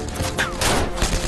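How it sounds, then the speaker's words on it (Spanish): Dense gunfire from castle defenders returning fire at attacking Waffen-SS troops in a World War II battle, rapid overlapping shots and cracks in a continuous loud volley. "Los defensores del castillo devuelven los disparos, pero son superados en número."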